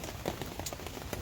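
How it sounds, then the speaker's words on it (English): Steady hammering rain pelts surfaces outdoors on an island, making a dense, continuous patter with occasional louder drop hits, heard close and alone with no talking. "I don't know whether I want to go stand out there in the hammering rain and wind"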